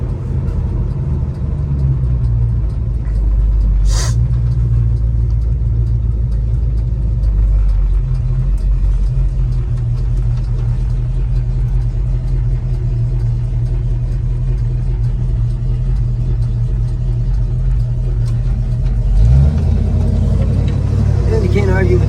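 A 1969 Chevrolet Chevelle SS 396 engine idles with a deep, steady, loud rumble throughout, with a brief sharper burst early on and a revving swell near the end; voices talk over it.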